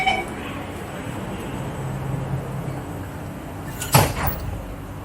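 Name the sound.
MRT train sliding doors closing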